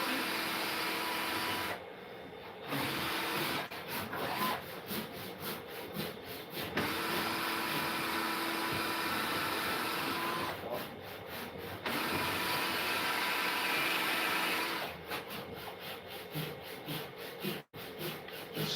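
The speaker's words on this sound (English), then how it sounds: "Smoke coming from the end of the drill." A power drill bores into wood in a home workshop, a continuous grinding whir with gritty rubbing that pauses briefly several times before restarting, close and fairly loud.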